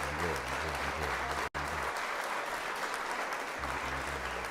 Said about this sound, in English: One more round of applause for that.